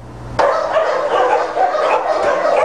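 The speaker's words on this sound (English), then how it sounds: "Working at the animal shelter, one has to tolerate the constant barking and strong smell." Many dogs bark at once in a continuous loud chorus at an animal shelter, echoing in an enclosed space, starting abruptly and continuing without pause.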